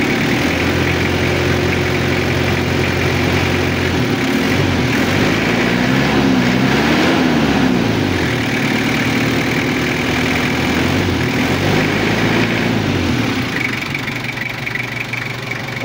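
Toyota Kijang diesel engine upgraded with a turbo intercooler, running loud and steady close by with a low rumble, its pitch swelling and falling through a few gentle revs midway before settling back toward idle.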